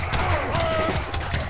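Cannon crew fire in Age of Empires III battle, a cluster of sharp booming shots and crackling volleys over a dense battlefield din, with brief unit voice cues mixed in.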